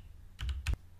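A few quick, close keystrokes on a Windows 10 computer keyboard, two short bursts of clicks against a quiet room.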